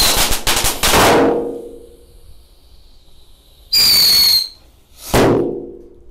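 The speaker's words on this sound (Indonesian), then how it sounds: "Selanjutnya yang kita nyalakan di sini ada mercon tikus tor." A mercon tikus firecracker goes off with a loud, crackling burst of rapid pops, then a shrill whistling squeal, then another sharp crackle.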